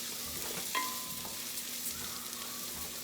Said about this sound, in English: You want to fry the rice in the oil